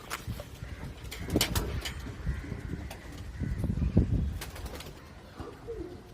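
High-flyer pigeons shut in a loft cage coo softly and continuously, with bursts of wing flapping and rustling close by, and no talking.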